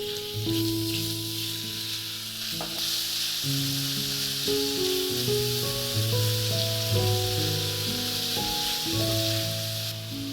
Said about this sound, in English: Now add the ground meat and stir it around to break it down.